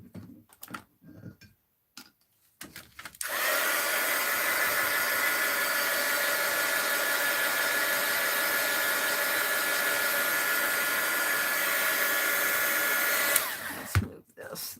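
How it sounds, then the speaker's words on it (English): A heat gun dries paint on an art journal page, a loud, steady whooshing blower that switches on after a few faint clicks and handling noises, runs continuously for about ten seconds, then cuts off. "Get my heat gun out."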